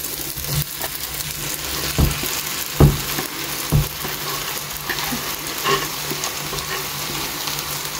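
Brinjal sizzling and frying in masala in a pan for bharta, a steady close hiss broken by several sharp scraping stir strokes, with no talking.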